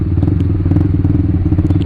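A motorcycle fitted with a 3TECH Tridente F19 Thunderhawk exhaust idles close by, giving a steady, deep, throbbing rumble with a slight crackle and no talk over it.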